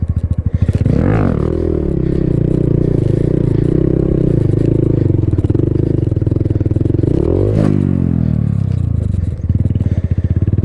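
A Honda Grom motorcycle with a low idle that has not been adjusted, sitting close and loud, its engine loping unevenly and nearly stalling, with a couple of brief throttle blips lifting the pitch before it sinks back.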